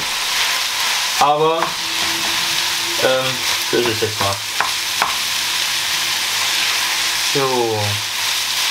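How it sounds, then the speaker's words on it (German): Minced meat and peppers sizzle and fry steadily in a small pan, with a constant loud crackle throughout and occasional stirring clatter while a voice speaks briefly over it. "Das wird jetzt hier mal kurz angebrutzelt."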